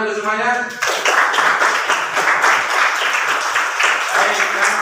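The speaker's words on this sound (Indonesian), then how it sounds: "Tepuk tangan untuk semuanya." Loud, dense clapping from a class during a fiqh lesson on ritual purity bursts in after a brief voice and continues steadily to the end.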